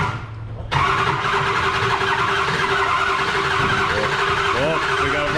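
A Ford 6.0 liter Super Duty diesel truck that was flipped into a pond turns over and catches, jumping from a quiet moment into a loud, steady, close running roar, with voices heard over it.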